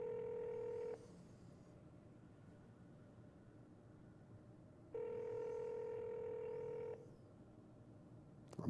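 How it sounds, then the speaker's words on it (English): A telephone dial tone plays steadily, stops, then returns for a couple of seconds with quiet hiss in between, fairly faint and without any voices. "I'm making a call to somebody."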